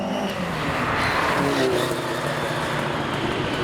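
A Ferrari 308 in Golf livery drives past on a road packed with custom cars, a loud continuous engine roar that swells and holds through the moment, with crowd noise blended in.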